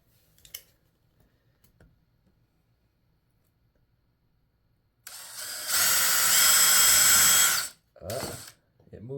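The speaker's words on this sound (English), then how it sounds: "So we'll just drill some pilot holes and put this stuff together" A power drill whirs loudly for about three seconds boring pilot holes in scrap wood for a birdhouse, then gives a brief second burst after quiet rustling and a faint click.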